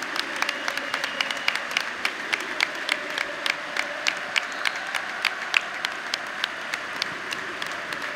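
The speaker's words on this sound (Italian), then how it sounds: "un applauso finale" A stadium crowd applauds Stefan at the end of a Serie A match between Juventus and Hellas Verona, with sustained clapping plus sharp, regular claps standing out above the roar.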